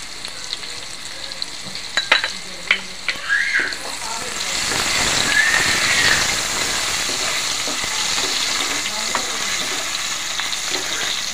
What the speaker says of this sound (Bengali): আগে থেকে আলুগুলো কেটে রেখেছি, আলুগুলো লাল লাল করে ভেজে নেব।